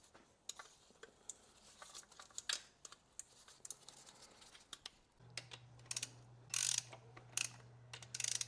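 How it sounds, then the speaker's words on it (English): Ratchet clicking in quick bursts while rod bolts are torqued on a BMW M5 V10 engine, sharp close clicks repeating with short pauses, a steady low hum underneath and no talking. "I'll go through and complete the full torque sequence for the rod bolts"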